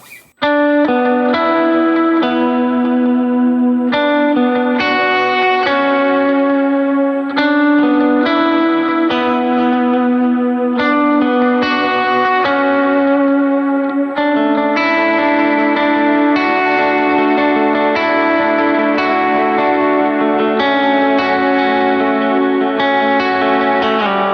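Clean electric guitar chords ring out through an HX Stomp with a wash of reverb and echoing delay, played steadily and alone with no voices.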